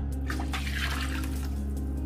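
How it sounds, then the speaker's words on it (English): Water poured into a cooking pot, steady rushing that fills the clip, a continuous pour with a low hum underneath and no talking. "So now I'm adding just this cup of water"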